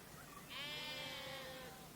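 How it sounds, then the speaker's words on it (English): A Babydoll sheep that has escaped its cage on a farm gives a single drawn-out, wavering bleat at moderate distance, with no talking. "So somehow a baby doll sheep has got out of the cage."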